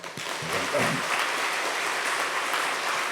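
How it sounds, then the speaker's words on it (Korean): A church congregation at a Sunday service breaks into warm, steady applause welcoming a newlywed couple, the clapping building quickly and holding dense and even, with a brief voice at the start. "여러분 아낌없이 우리와 같은 박수로 환영해 주시기 바랍니다"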